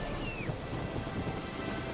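Steady rain pours down in The Witcher 3 game world, a dense continuous hiss with low rumbling thunder rolling underneath, loud and unbroken throughout.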